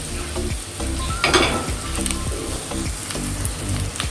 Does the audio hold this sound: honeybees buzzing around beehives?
no